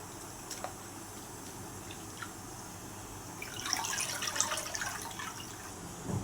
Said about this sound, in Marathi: कोथिंबीर 2 ते 3 पाण्याने स्वच्छ धुवून घेऊ